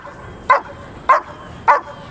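A dog gives three short, sharp barks, evenly spaced and close by, during outdoor protection training, with a low background hum between them.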